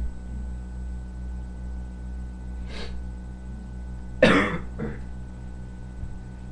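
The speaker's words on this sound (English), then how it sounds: "Sorry if my coughing gets a little difficult" A few coughs from a person with bad allergies: a soft cough, then a louder, sharper burst followed by a smaller one, close to the microphone over a steady electronic hum.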